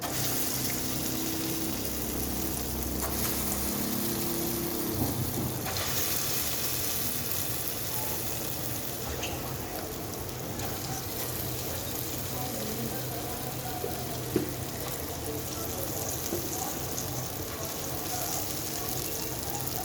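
Moong dal vada batter frying in hot oil in a kadai, a continuous close sizzle and crackle running steadily throughout, with a few soft clinks and a brief sharp tap near the end.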